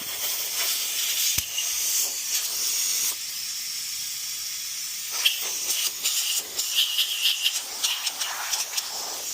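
Air hissing out of a hot tyre inflator pump hose: a loud, close, steady hiss that briefly drops off, then returns with sputtering, pulsing bursts, and no speech.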